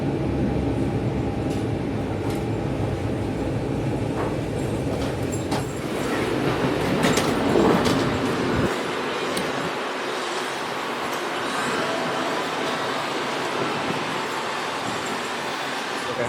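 A Brightline passenger train at the Fort Lauderdale station, with a steady low rumble and hum of the train that drops off sharply partway through, leaving quieter ambient station noise. A voice announcement plays over it.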